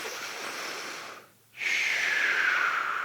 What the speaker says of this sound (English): there's a way to make your breathing sounds more audible without you getting lightheaded yourself